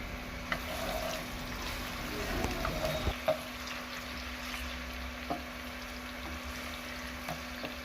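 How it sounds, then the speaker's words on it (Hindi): Chopped onions frying in ghee in a pan, a soft steady sizzle with occasional scrapes and clinks of stirring, fairly quiet and close. "इसके बाद हम इसमें चॉप की हुई प्याज डालेंगे, एक अदद, और अच्छी तरह से इसे मिक्स कर लेंगे।"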